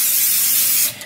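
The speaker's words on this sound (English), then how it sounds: "So that is my pan. I'm gonna spray it with a little bit of this like Coles oil." Coles cooking oil sprays from a can onto a frying pan in one loud, close, steady hiss lasting about a second before it cuts off.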